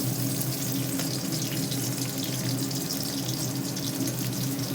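Water runs steadily from a tap into a cooking pot during home cooking of a Chyala fish mustard curry, a continuous close splashing rush with no pauses.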